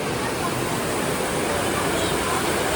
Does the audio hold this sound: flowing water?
yes